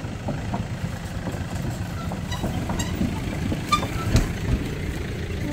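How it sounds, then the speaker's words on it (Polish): A motorcycle rides past on a rural road near a bridge in Guinea, its engine a steady, fairly close rumble that rises briefly in the middle and then carries on. "O, jedzie motorem, poczekaj."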